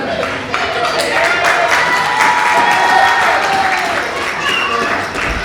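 A wrestling crowd at a live show in Dagenham claps and cheers steadily throughout, a loud continuous wash of applause and voices filling the hall.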